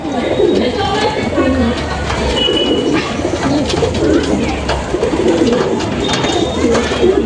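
Madras pigeons coo nearby in low, repeated rolling calls, with faint voices and chatter in the background.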